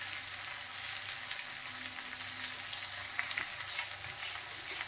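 Pre-fried vegetables sautéing in a pan with salt added, a soft continuous sizzle with faint stirring scrapes, fairly quiet and steady, no talking.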